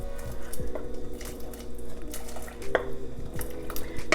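Ingredients slipping gently into a pot of black-eyed peas make soft clinks and muted scrapes of utensil on cookware, with low squishy splashes throughout, close and moderately loud.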